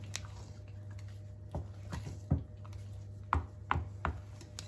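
Wet cornmeal pudding mixture rubbed by hand in a bowl, giving soft, irregular squishing and patting sounds in scattered bursts, close and fairly quiet over a low steady hum.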